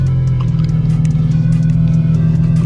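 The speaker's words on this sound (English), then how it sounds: "right now I'm currently putting my car in my driveway" A Mercedes C43 AMG rolls slowly into a driveway, its engine holding a loud, steady low idle hum with slight fluctuations, close by and continuous, with no talking.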